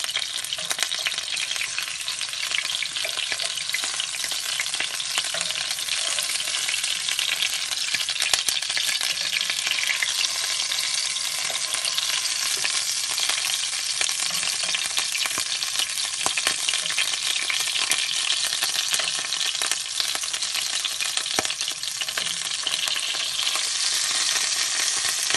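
Ricotta-stuffed Italian meatballs browning in a frying pan give a steady, dense sizzle and crackle that runs unbroken throughout, fairly loud and close, with no talking.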